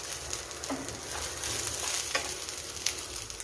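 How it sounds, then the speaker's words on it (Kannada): Steady sizzling of spices tempered in hot oil for a cowpea-bean stir-fry, with occasional small pops and crackles, close and fairly quiet. "ಈಗ ಇದಕ್ಕೆ ಒಗ್ಗರಣೆಯನ್ನು ಹಾಕ್ತಾ ಇದ್ದೀನಿ"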